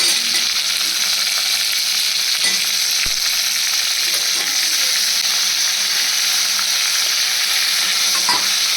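Mixed vegetables, potato among them, sauté in a pan for sambar, giving a steady broadband sizzle and hiss with occasional soft stirring scrapes throughout, loud and close with no voices.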